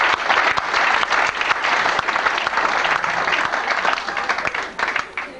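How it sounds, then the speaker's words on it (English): Sustained applause from an audience at a 1991 tennis association awards gathering, dense steady clapping that fills the whole stretch at close, even loudness. "Why don't you give yourselves some applause?"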